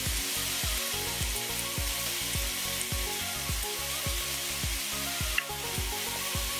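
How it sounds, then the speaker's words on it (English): Beef browning in a pot for an Egyptian-style stew with vinegar, a loud constant sizzle with a regular rhythm of spoon strokes stirring the meat, no voices. "And give it a stir."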